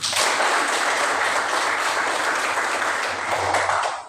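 A class of schoolchildren claps hands together in a biology lesson, a loud, dense burst of clapping filling the room for about four seconds before stopping abruptly.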